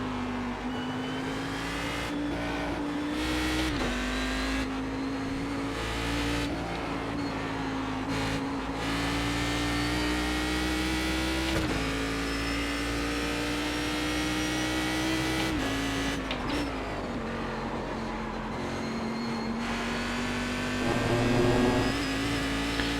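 A Cadillac CTS-VR race car engine drones at high revs at Summit Point in iRacing, shifting pitch with gear changes and braking, a steady loud whine throughout.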